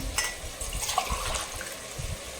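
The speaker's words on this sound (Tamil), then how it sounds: "இந்த ஜெக்லேயே வந்து தண்ணி சேர்த்துக்கலாம்." Water poured from a jug onto uncooked rice in a home kitchen, a quiet splashing trickle with soft gurgles, close and fairly faint.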